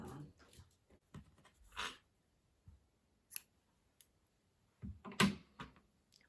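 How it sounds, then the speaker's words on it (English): Scissors cut crochet yarn, several short, close snips and rustles separated by quiet gaps, with a sharper, louder cut toward the end and no talk. "then I'm going to chain 2 and cut the yarn"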